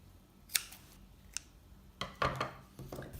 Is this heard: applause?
no